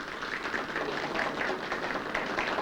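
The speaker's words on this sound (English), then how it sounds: "keep that applause going" Steady applause from a crowd, a dense patter of many hands clapping continuously without a break.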